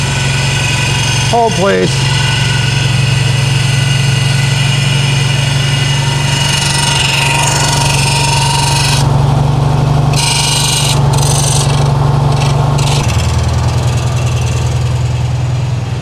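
A 1968 VW Karmann Ghia engine idles cold with a steady low drone and a pulley squeal, loud and close throughout, while a voice speaks briefly near the start.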